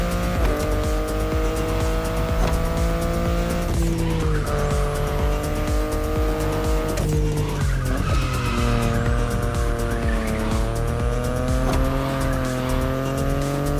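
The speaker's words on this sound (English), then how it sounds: "The BMW i8 is a car that stands out from the crowds." A BMW i8 in the racing game The Crew Motorfest drives hard through corners. A steady engine drone rises and falls with gear changes, under long, loud tire squeals and skids that run nonstop.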